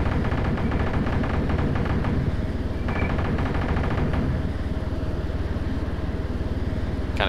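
Helicopter gun firing in the Superhind video game, rapid unbroken machine-gun bursts over a dense rumbling engine drone, loud and close throughout.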